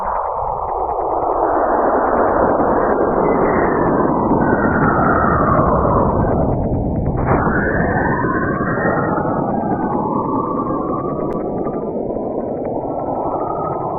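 Cassini probe radio recording from Saturn, an eerie continuous whooshing drone with sweeping, gliding tones that fall and rise like a siren, steady and loud throughout with no voices.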